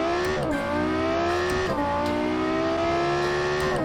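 A sequential-shift car engine in BeamNG.drive revs loudly and climbs through the gears, its pitch rising steadily and dropping sharply at each of two quick upshifts, the buzzing drone continuous and close with no talk.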